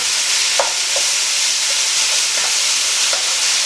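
Lean beef mince browns in a hot pan with a steady, loud, hissing sizzle throughout, broken by a few light scrapes of stirring.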